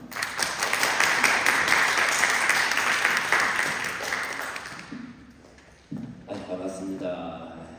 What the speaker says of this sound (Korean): 이 시간 안재양 목사님 나오실 때 큰 박수로 환영해 주시면